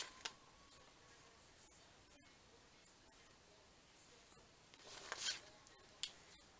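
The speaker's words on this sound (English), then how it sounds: "I'm just going to cut." Fabric scissors cut through fabric in a few quiet, close snips and crisp slicing rustles, with one longer cutting stroke near the end against a faint, hushed room background.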